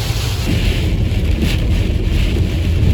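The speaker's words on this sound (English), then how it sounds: "This is the wind and the rain. It's like the really strong wind." Strong wind and rain on the drive near Geraldton, a loud, dense rushing roar with heavy low rumble from gusts hitting the microphone, steady and unbroken.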